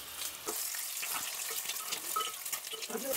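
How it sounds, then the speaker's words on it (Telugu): Eggs frying in oil with salt and turmeric, giving a steady soft sizzle and crackle with scattered small pops, moderately loud and close, with no talk. "గుడ్లు వేగిపోయినాయి కదండి"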